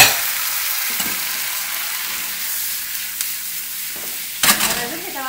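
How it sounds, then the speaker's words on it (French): Sun-dried tomatoes go into a pan of mushrooms that have already given up their water. A steady sizzle and frying hiss runs throughout, close by, with a brief louder burst of stirring near the end. "Donc, on ajoute les tomates confites."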